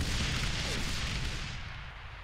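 A Metis anti-tank launcher firing in a military video game, one loud deep blast at the start that fades into a long rumbling tail.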